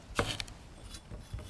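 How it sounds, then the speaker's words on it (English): A knife slices through a large pear, giving a few short crisp cutting strokes, one sharp near the start and softer ones after, quiet and close with no talking. "Pear first I have to cut."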